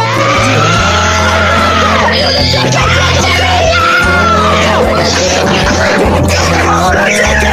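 Loud, sustained screaming and yelling fills the space nonstop, close and strained, over a low rumbling drone.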